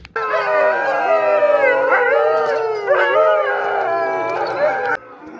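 Sled dogs in a snowy mountain setting howl together in a loud, sustained chorus of overlapping wavering tones that carries on for about five seconds before stopping abruptly.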